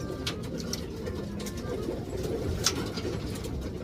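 Racing pigeons coo softly in a loft, low murmuring calls layered over one another at moderate distance, with faint chirps and a steady background hum and no voices.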